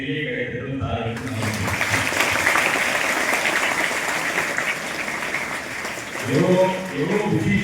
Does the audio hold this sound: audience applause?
yes